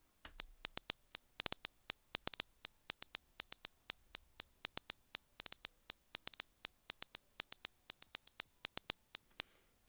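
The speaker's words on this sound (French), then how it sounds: "J'ai ajouté un peu des petits effets et j'ai fait une ligne rythmique qui fait ça." A trap hi-hat rhythm built from Rubik's cube clicks with added effects: fast, crisp, bright ticks in a steady looping pattern with rolled bursts, loud and alone.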